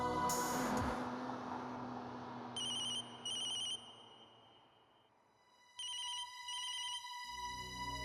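A phone rings with a mother calling, giving repeated electronic ringtone trills in paired bursts over a dramatic music bed, fairly clear and near.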